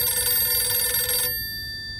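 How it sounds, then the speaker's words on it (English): A telephone bell rings with a bright, steady metallic trill for about a second and a quarter, then cuts off and leaves a fading tone and quiet room hiss; no voices. "he almost didn't hear the telephone ringing again."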